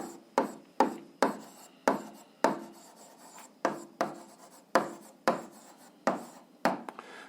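Chalk or pen writing down a math solution for an 8th-grade algebra exercise: a dozen sharp taps, each followed by a short scratching stroke, in an uneven steady rhythm, close and clear with no talk.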